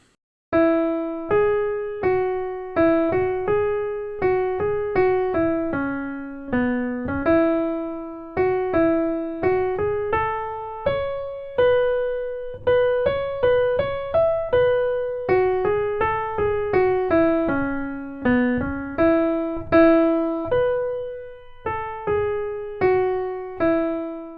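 A short, simple Northumbrian folk melody played note by note on a keyboard with a plucked, decaying tone, repeating its phrase, clear and alone.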